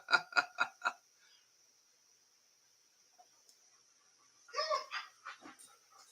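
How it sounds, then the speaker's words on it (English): A dog whines in short, rapid pulsing bursts up close at the start, then after a quiet stretch a few more cries follow, over a faint steady high hum. "My dog's whining."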